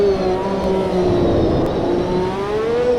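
Formula One cars from the HiTech Gen 1 era in the Automobilista 2 racing game at Interlagos make a loud, continuous high-revving engine scream whose pitch gently falls and rises.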